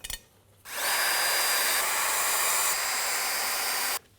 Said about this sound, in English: So what I'm going to do is just place this first screw